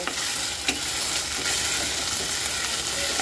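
Ginger paste, green chillies and spices frying in a pan for a soybean and potato curry, a loud continuous sizzle with scraping and stirring strokes close up, no voices.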